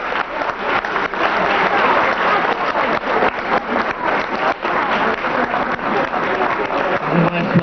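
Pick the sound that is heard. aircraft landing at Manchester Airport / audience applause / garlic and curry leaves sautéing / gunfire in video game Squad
audience applause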